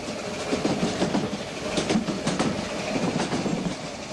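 A compound Mallet tank steam locomotive on a 1960s Portuguese narrow gauge line rolls gently through twisting curves on falling grades, with steady wheel clatter and rhythmic clickety-clack of the carriages, close and continuous.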